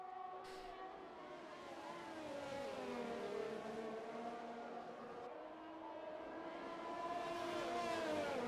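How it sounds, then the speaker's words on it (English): Formula 1 cars in an F1 video game racing past during an Italian sprint race, engines whining with rising and falling pitch as several cars pass continuously across the stretch, fairly loud with no talk. "it's just nice to hear some of the sounds of the F1 cars going by sometimes"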